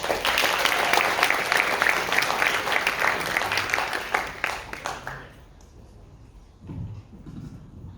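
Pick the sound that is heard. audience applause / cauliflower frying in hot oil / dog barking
audience applause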